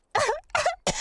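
A cartoon pig character gives three quick, close coughs in a row in the Polish-language Peppa Pig animated show, each a short voiced hack separated by brief pauses.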